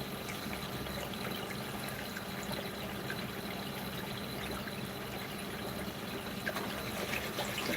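Steady rushing of water pumped into a bucket while draining a fish pond or tank, a continuous even splash and flow heard close and unbroken throughout.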